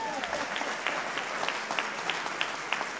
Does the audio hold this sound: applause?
yes